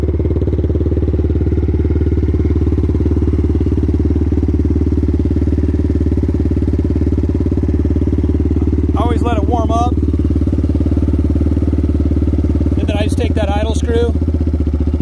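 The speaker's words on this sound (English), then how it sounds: "White Brothers exhaust. First time fired up today." 2003 Yamaha Raptor 660 quad fitted with a White Brothers exhaust, its single-cylinder engine idling loud and close with a steady, throbbing thump throughout, while someone speaks briefly over it twice.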